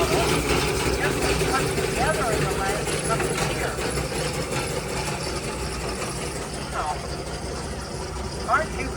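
A Westinghouse steam engine runs in a farmers' and threshermen's jubilee parade, its steady mechanical chugging and idling churn sitting under nearby people talking over it.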